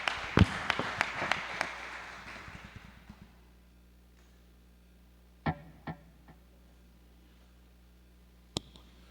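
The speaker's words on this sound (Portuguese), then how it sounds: "As palmas louvam o Senhor." Scattered hand claps ring out in a church service, a quick cluster at first and then a few isolated claps, faint with a roomy echo and no voices.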